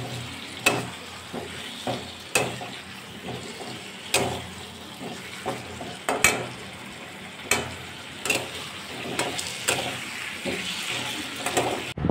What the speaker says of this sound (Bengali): এখন এই আলুর দমটা কষা চলছে।